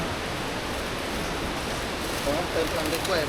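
The steep Krok I Dok waterfall in Thailand gives off a steady, broadband rush of falling water, loud and unbroken, with a faint voice emerging briefly near the end.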